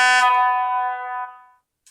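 Horn of a Bowser Baldwin DS 4-4-1000 model locomotive giving one sustained, reedy blast of about a second and a half that fades out, loud and close.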